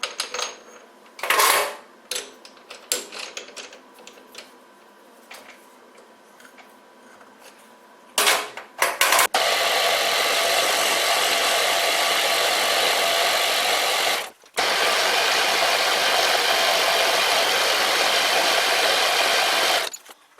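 Bernardo Profi 60 metal lathe turning a steel part down from 16 mm to 10 mm, first scattered clicks and knocks, then a loud steady whirring run that cuts out briefly and resumes, close and continuous.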